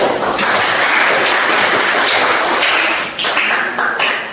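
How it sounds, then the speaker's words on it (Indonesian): Applause for a student group in a classroom: a steady, dense wash of many hands clapping at close range throughout, with a slight dip near the end before the clapping resumes. "Beri aplaus untuk kelompok kita semuanya ya."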